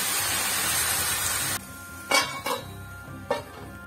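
A metal lid is set on a pan of cabbage cooking with a little water, with a hiss fading out, then three short clanks and scrapes of metal on metal close by.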